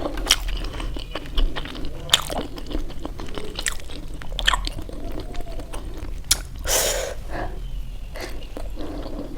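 Homemade steamed momo bitten and chewed up close, with soft wet chewing and occasional sharper clicks and crunches over a low steady background hum.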